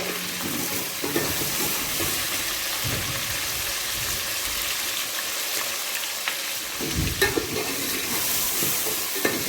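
Spices frying in oil and being stirred in a pot while making biryani, giving a steady close sizzle broken by scraping stir strokes throughout, with no talking.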